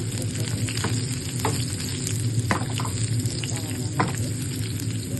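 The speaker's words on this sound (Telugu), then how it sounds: "ఇప్పుడు పోపు పెట్టుకున్నాను." Cumin, mustard seeds, garlic and curry leaves sizzle steadily in hot oil as a tempering for lemon pickle, a dense continuous crackle with a few sharper pops, close and alone.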